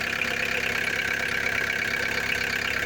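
A Volkswagen T4 engine idles steadily just after being started, a constant mid-pitched mechanical hum and clatter, close and fairly loud, with no voices.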